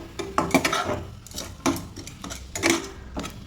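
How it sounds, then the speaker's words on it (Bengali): A spoon scrapes and knocks against a pan while mashed potato is mixed with cooked onion, salt and fenugreek leaves as filling for aloo paratha, making uneven clattering strokes close by. "খুব ভালোভাবে আলুটাকে মিক্স করে নেব।"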